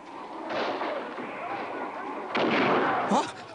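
Rifle gunfire in a 1986 TV miniseries battle scene, with dense overlapping shots and bursts running continuously throughout, louder near the end, under shouted voices.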